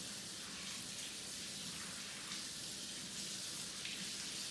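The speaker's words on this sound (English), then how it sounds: "Now I am going to use this corner to turn the tap on. And I'm going to rinse thoroughly." Running water from a sink tap while hands are rinsed free of soap, a steady broadband splashing hiss that stays even throughout, with no talking.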